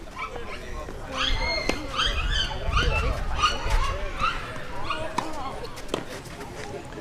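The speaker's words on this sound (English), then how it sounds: "Even the dogs behind me are all excited." Dogs behind a tennis court excitedly barking, yipping and whimpering, several animals overlapping at moderate distance while a commentator talks over them throughout.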